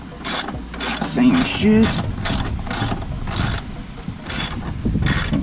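A ratchet wrench turning a bolt into the control arm of a Honda CRX during a suspension install: a run of quick, evenly spaced clicks close by, with someone speaking briefly over them.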